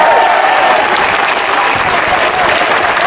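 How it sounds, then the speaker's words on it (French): Dense, loud applause from a large audience at a political party's summer university gathering, sustained evenly for about three seconds with faint crowd voices mixed in. "je veux que vous les applaudissiez"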